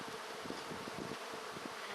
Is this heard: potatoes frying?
no